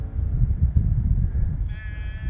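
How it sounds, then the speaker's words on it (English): Sheep on a Danish farm field near the ocean bleat under a steady low rumble of wind, with a clearer, higher bleat rising near the end. "These are some very happy sheep."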